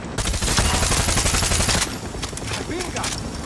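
Rapid automatic gunfire in the shooter game Far Cry 6 rattles loudly and continuously before easing into scattered shots, with a voice speaking underneath.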